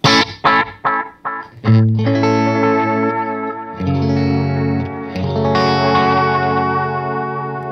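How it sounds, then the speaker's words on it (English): Electric guitar notes ring out through a warm, repeating Way Huge analog delay pedal, echoes trailing and smearing into a sustained, slightly distorted feedback wash; loud and close, no voices. "Cool analog sounding delay."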